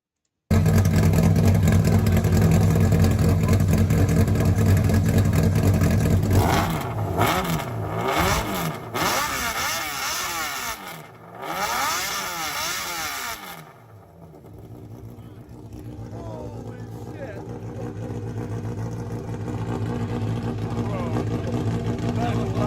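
Car engine revving hard in Poland, a loud roar rising and falling in pitch over several seconds, then dropping to a lower idle-like drone, with voices talking over it.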